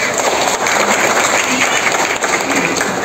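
Steady, loud applause from an audience at a community outreach event on supplementary food for pregnant women and babies, a dense clapping wash that runs unbroken throughout.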